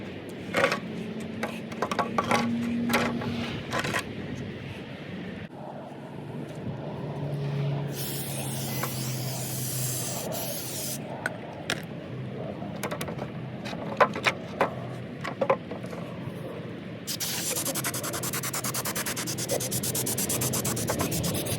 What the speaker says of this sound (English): Using brake cleaner and a rag, clean around the valve cover.